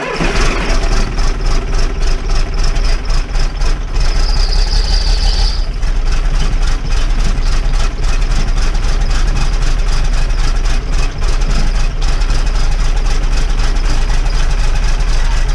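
A loud misfiring car engine runs continuously with a rough, uneven pulsing throb, close up and steady for the whole stretch.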